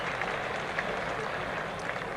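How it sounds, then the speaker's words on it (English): Steady crowd applause at a 1974 Australia versus England cricket test match, a distant, even wash of clapping from the stands that holds for the whole stretch without breaks. "applause for the 52 runs now to Australia"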